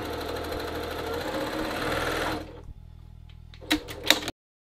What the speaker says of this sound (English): I'm going to sew right off the edge at that dart